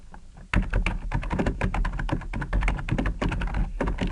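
Rapid, steady typing on a computer keyboard while notes are entered into a massage therapy health records system, close and loud, with dense continuous key clatter after a brief quiet start and no speech.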